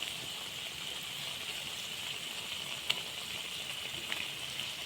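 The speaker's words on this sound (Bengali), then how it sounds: "অপর পাশটা ভেজে নিচ্ছি।" Snake gourd fritters frying in oil make a faint, even hiss and sizzle with a couple of small pops, heard alone.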